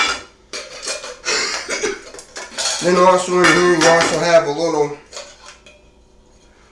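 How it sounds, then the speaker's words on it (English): Metal clatter and clinks from a small Walmart Ozark Trail camping cook set, a pot, little frying pan and plate tray, being handled close by while someone talks over the clanking. "Walmart brand Ozark Trail little cooking pot that you can use to cook stuff with"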